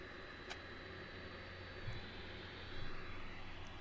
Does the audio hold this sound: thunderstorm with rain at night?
no